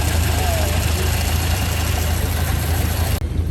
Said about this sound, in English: My goodness, old car's working.